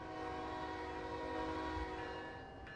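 Amtrak Pennsylvanian locomotive horn at Horseshoe Curve in Trainz Simulator 3, a steady chorded blast held loud and continuous for nearly three seconds, tapering slightly at the end with no talk over it.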